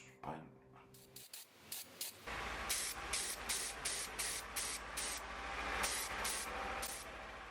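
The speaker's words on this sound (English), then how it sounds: "I'm just doing some painting with a satin black." Satin black spray paint hisses from an aerosol can onto old coffee grinder parts in repeated short bursts, fairly close and clear, with a quieter stretch before the spraying begins.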